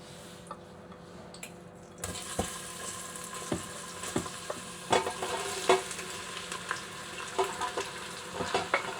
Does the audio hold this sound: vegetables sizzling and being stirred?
yes